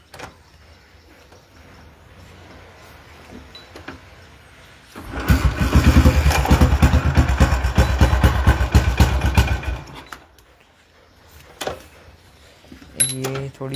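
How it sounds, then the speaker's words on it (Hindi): A Royal Enfield Bullet motorcycle starts after a quiet stretch with someone speaking, then runs with a loud, thumping idle for about five seconds before cutting off, followed by faint clicks. "मेरी जो बाइक है, मैं स्टार्ट करके दिखाता हूँ आपको।"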